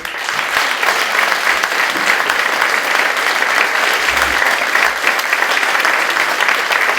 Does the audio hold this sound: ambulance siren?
no